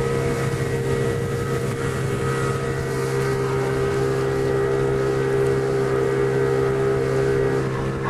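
A motorboat engine drones steadily nearby on open water, a continuous loud hum with wind buffeting the microphone throughout and no voices.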